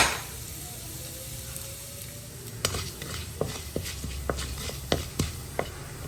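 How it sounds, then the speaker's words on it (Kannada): Sharp little pops and crackles burst irregularly over a low sizzle, mustard seeds spluttering in hot oil with urad dal and cumin close by. "ಒಗ್ಗರಣೆ ಚಟಪಟ ಅಂತ ಸಿಡಿಲಿ ಸಾಸಿವೆ"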